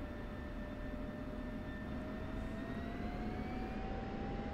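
An F-16C Viper jet in the DCS flight simulator spools up for takeoff, with a constant roaring engine rumble and thin turbine whine tones that slowly rise in pitch throughout.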